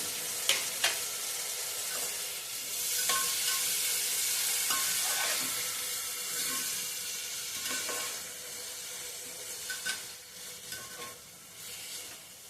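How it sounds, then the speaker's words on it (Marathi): Finely chopped tomato hitting sautéed onion in a pan, a broad continuous sizzle with occasional stirring clinks and scrapes, close and moderately loud with no talking. "आता त्यामध्ये 1 मोठा टोमॅटो बारीक चिरून घातलेला घालायचा."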